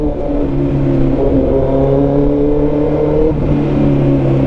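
A Kawasaki ZX14R motorcycle fitted with a new aftermarket exhaust revs close by, its steady deep engine note holding with a brief dip in pitch near the end and no speech.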